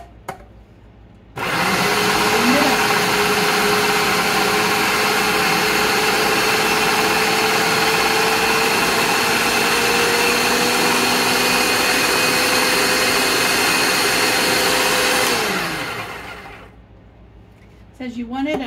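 Food processor whirring steadily as it blends chickpeas and tahini for hummus, a loud continuous motor drone lasting about fourteen seconds before spinning down, with quiet background before and after.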